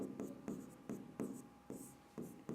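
A teacher writes on the classroom board during a physics lesson, a run of short, brisk chalk strokes, each a quick scraping tap, spaced in an uneven rhythm and heard close.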